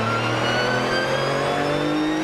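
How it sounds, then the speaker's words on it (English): Porsche GT3 Cup race car accelerates hard on a public road in Germany, a loud sustained engine wail with rising harmonic tones, close and continuous without speech. "Imagine being that guy getting passed by a GT3 car."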